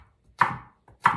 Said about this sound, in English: But I'm gonna use my knife today because it's a little faster.